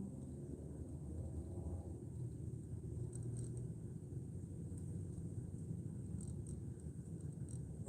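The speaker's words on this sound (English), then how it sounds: "Oh boy, there's a truck coming." A truck passes on a road as a low, steady rumble that stays even and fairly quiet throughout, with faint outdoor background and no talking.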